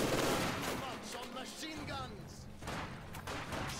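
Light machine gun fire from grenadier squads in a real-time strategy war game, sounding as rapid rattling bursts mixed with other battle noise, running under continuous commentator talk.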